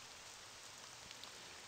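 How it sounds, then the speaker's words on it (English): Steady rain falls in a video game, a dense, even hiss of drops on surfaces that fills the whole stretch without pause or voices. "It's freezing out here and the rain certainly isn't helping."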